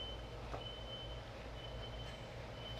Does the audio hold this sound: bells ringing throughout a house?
no